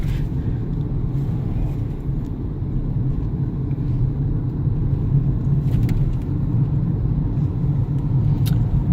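A car rolling down a hill with the brake held, giving a steady low rumble of engine and road noise from inside the cabin, constant and fairly loud with no speech.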